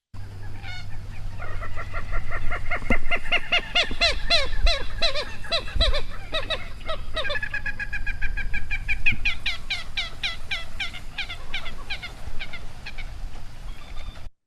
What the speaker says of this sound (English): And here's common gallinule.